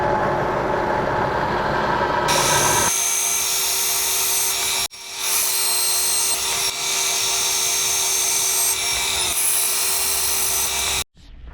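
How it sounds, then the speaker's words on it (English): A milling machine whines steadily at high pitch as it drills holes into a metal lathe chuck part, with two brief pauses where the cutting drops out. "we'll go put that in the mill and drill some holes"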